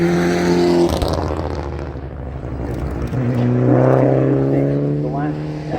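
A Mitsubishi Evo rally car on a stage of the McRae Rally Challenge, its engine note rising and shifting gears as it passes close by, with a commentator talking over it.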